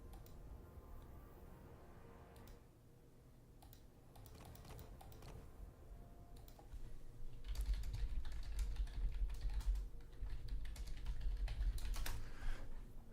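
Computer keyboard typing runs steadily throughout, quick irregular key clicks at close range, growing denser and louder in the second half over a low background rumble, with no speech.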